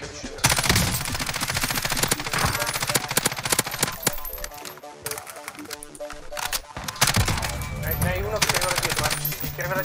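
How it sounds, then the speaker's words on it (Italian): Automatic gunfire in a multiplayer video game shooter, rapid dense bursts with overlapping shots and game sounds, loud and continuous, with a brief lull partway through before the firing picks up again. "Stanno sparando a banca"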